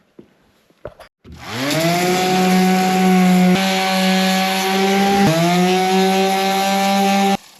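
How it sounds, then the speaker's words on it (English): A power sander whirs up after a few taps and runs steadily at a loud, even pitch, dipping briefly twice before cutting off. "So just a little more sanding"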